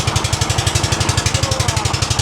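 Big boat on the Rupsa river with its engine chugging loud and close, a fast, even thumping pulse that never breaks, with no talking.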